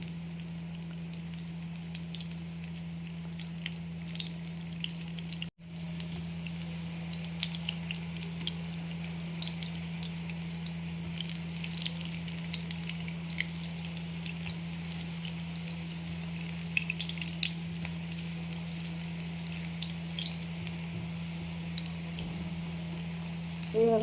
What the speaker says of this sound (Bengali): এইভাবে সব বড়াগুলো আমি ভেজে নেব।